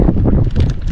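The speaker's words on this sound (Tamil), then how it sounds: "சரியான காத்து." Strong wind blows outdoors, buffeting the microphone with loud, gusty low rumble and fluttering bursts that continue throughout the short moment.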